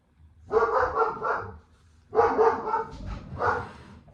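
A puppy barks in three close bursts of rapid yaps, separated by short pauses, loud and near, with no talking over them.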